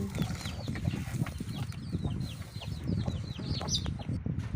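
Free-range chickens cluck and call inside a coop on a mixed Thai farm, with scattered short clucks overlapping at close range against a steady background rustle.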